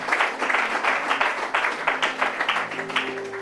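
Audience applause, a steady stretch of many hands clapping at an even, moderate level from start to finish, with no talk over it.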